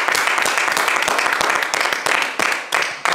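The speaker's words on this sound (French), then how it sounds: "je vais vous demander là maintenant 10 secondes d'applaudissements" Sustained audience applause offered as a tribute, dense clapping from a crowd, steady and fairly loud with a few brief dips, no talking over it.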